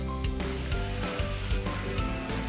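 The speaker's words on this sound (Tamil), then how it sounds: "அதே நெய்லேயே ஒரு கப் ரவை போட்டுக்கலாம்" Semolina, a cup of rava, roasting in ghee in a pan for kesari, giving a steady, close sizzle with soft scraping and stirring throughout.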